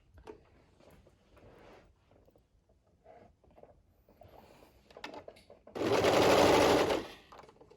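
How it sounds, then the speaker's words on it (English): A serger stitches along the front of a hood made of Sherpa and flannel, sounding as one loud, fast mechanical burst of about a second after several seconds of quiet handling noises and faint rustling. "we are just going to sew along that front of the hood"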